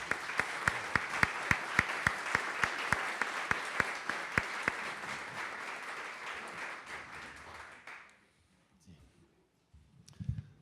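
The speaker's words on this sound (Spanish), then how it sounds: "Recibimos con un fuerte aplauso a nuestro invitado." An audience applauds steadily for several seconds with a few sharp individual claps standing out, then the clapping dies away into near silence.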